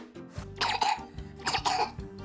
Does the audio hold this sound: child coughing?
yes